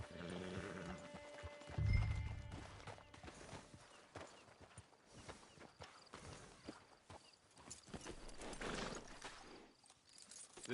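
Horse hooves in a video game clop steadily on the ground in a quick rhythm, fairly faint, with a heavier thump early on and no talking.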